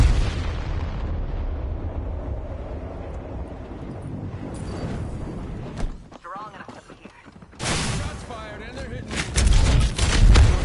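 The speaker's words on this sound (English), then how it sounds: "Got a gravity cannon here." Gravity cannon firing in the video game Fortnite, a loud booming blast that swells near the end over steady game background noise, with players talking around it.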